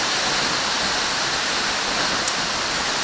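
Seljalandsfoss waterfall in Iceland roars as a steady, dense wash of falling water, loud and continuous throughout with no voices over it.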